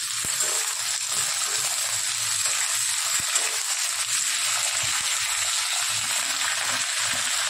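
Okra frying in a pan gives off a continuous bright sizzle, steady and close, with a few faint clicks of stirring underneath and no talking.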